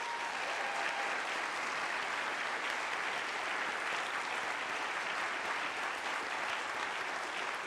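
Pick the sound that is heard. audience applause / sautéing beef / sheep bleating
audience applause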